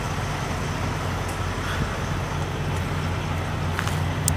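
A refrigerated semi truck on a cross-country haul idles or rumbles at a rest stop in Milan, Arizona, a steady low engine drone with faint traffic noise and no talking.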